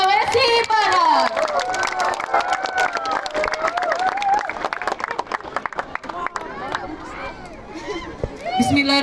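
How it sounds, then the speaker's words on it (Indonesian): Crowd applause and cheering for the six regencies of West Sulawesi at the PORPROV provincial sports games opening in Mamuju, a dense, loud wash of clapping beneath an amplified voice speaking over it. "aplaus yang paling meriah untuk 6 kabupaten se-Sulawesi Barat"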